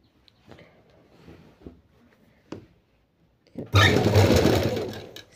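Faint handling clicks and rustles of fabric give way to a loud, rapid whir of a sewing machine stitching the round collar neck of an anarkali frock, running steadily for over a second.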